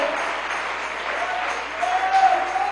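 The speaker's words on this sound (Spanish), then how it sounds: "Démosle un aplauso al Señor" A Spanish-speaking church congregation claps together during a worship service. The applause is steady and even, with a faint voice rising in the background toward the end.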